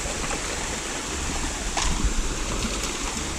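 Water is thrown onto hot stones beside a campfire, a rushing, splashing hiss that swells briefly midway over steady outdoor noise, with no talking.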